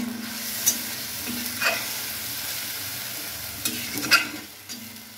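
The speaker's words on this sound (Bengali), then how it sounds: "মতো লবণ, হলুদ ও ঝালের গুঁড়া দিয়ে ভালো করে কষিয়ে নিতে হবে" Spices with salt, turmeric and chili powder frying in a pan for a fish curry with banana flower, a soft continuous sizzle broken by a few scraping stirs of a spatula.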